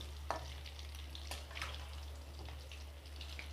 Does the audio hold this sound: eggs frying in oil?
yes